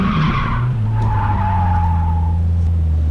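Car drifting in second gear on a track, tires squealing in a long sustained skid over a steady engine drone, loud and close, the squeal fading out toward the end.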